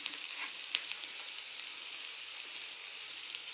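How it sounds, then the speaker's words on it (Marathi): Onion frying gently over low heat in a pan for a lentil-and-dough dish, giving a steady soft sizzle with faint crackles throughout, close and continuous with no voices. "धीम्या आचेवरच करायचं आहे आपल्याला. छान लाल परतून घ्यायचा आहे कांदा."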